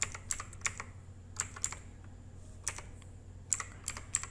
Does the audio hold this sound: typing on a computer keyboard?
yes